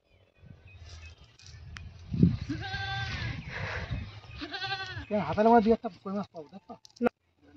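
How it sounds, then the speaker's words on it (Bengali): Goats bleat repeatedly, several wavering calls overlapping, with people talking nearby amid some handling noise. "ছাগলগুলো ডেকেই যাচ্ছে।"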